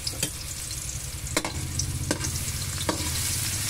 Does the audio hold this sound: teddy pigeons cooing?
no